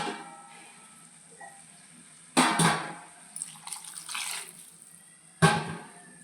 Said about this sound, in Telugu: అందుకే వాటర్ కొంచెం ఎక్కువ వేసుకోవాలి.